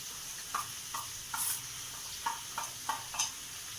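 Spices for butter chicken are sautéed in a pan: a steady low sizzle with a string of light scrapes and taps from a spoon turning the mixture, about six of them spaced across a few seconds.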